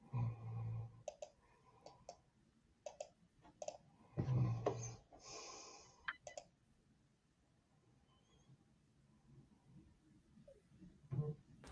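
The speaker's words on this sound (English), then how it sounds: "We hear you clicking away" Sharp, isolated clicks of a mute button being pressed repeatedly, coming in irregular bursts with short pauses between them, fairly close and moderately loud against a quiet background.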